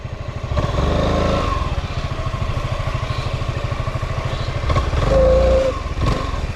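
A Honda Forza 350 scooter engine idling with a rapid, rattling clatter from a part no longer gripping the engine casing, rising briefly in revs a couple of times, close and loud.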